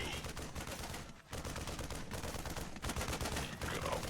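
Gunfire in a StarCraft 2 battle against infantry: dense, continuous rattling bursts of shots crackle loudly throughout, with one brief dip before the firing resumes at full intensity.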